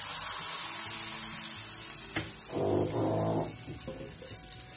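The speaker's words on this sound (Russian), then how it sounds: "Набираю половник теста и распределяю." Kefir pancake batter ladled into a hot oiled pan and spread, giving a steady hiss and sizzle that swells in the middle, close and fairly loud, without speech.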